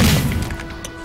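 A frag grenade goes off in a military shooter game as one loud, broad blast that rolls off into a fading rumble, with no voices.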